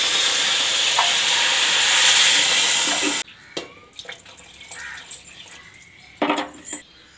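Water is poured into a measured amount of rice for soya biryani, one and a half times its volume. A loud, steady splashing pour runs about three seconds and stops abruptly, followed by a few faint clinks and light stirring.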